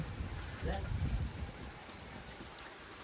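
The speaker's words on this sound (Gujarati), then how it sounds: "ફૂલ ઠંડો પવન છે અને વરસાદ વાદળછાયું વાતાવરણ એકદમ" Faint, steady rain patters with a soft hiss and a low murmur underneath, fairly quiet and distant, with cold wind and cloudy weather.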